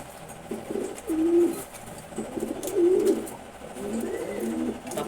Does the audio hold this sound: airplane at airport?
no